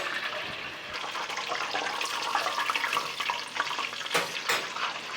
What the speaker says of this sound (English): let's like continue to fry until golden brown